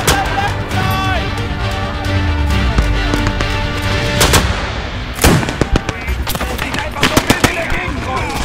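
Sustained rifle and machine-gun fire during a 1940 Dunkirk battle in Call to Arms: Gates of Hell. Heavy, continuous shooting fills the whole stretch, with sharp individual cracks standing out near the end and voices mixed into the din.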